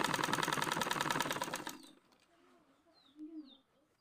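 A sewing machine runs fast and steadily while stitching Hmong trousers, then stops abruptly; afterward faint bird coos and chirps come from a distance in the quiet room.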